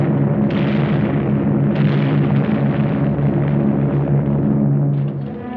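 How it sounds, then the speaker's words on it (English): Wartime aerial bombing and strafing of Japanese strongholds by Allied aircraft in Burma, heard as continuous rumbling blasts and droning engines from an old, band-limited 1945 film soundtrack, loud and unbroken with no talk. "The Allied Air Force of British and Americans in the newly formed Eastern Air Command bombed and strafed Jap"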